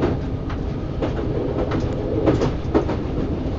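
A train in the TWS train simulator game rolls along the rails with a steady, loud rumble, broken by regular clickety-clack wheel beats over the joints. No one speaks.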